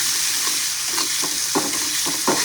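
Masala sautéing in hot oil, a dense close sizzle punctuated by rhythmic stirring scrapes about every half second, with no voices.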